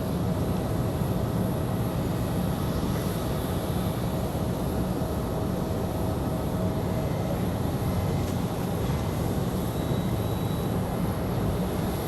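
An Alaska Airlines jet inbound from Seattle roars steadily as it arrives, a broad, constant rumble with a faint high whine, heard without any voices.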